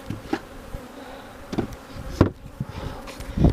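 Honey bees buzz faintly around a hive in Tiffin, Ohio, with a low continuous hum and a few brief knocks or bumps nearby.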